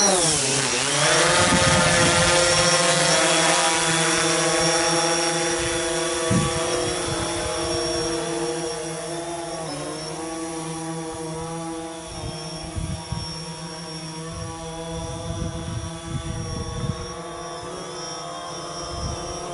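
A DJI Phantom 4 drone spins up its rotors and lifts off, the buzzing whine rising in pitch, then hovering nearby in a steady, loud drone with slight pitch wavering and a few faint thumps.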